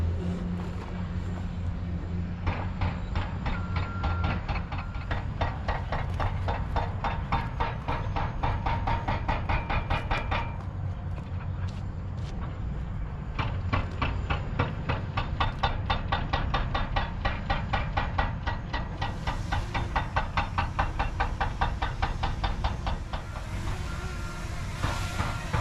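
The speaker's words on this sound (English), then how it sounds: "you can hear the hammering" Rapid, rhythmic hammering in quick bursts at a housing construction site in Menifee, California, steady and fairly close, with brief pauses between runs over a low background rumble.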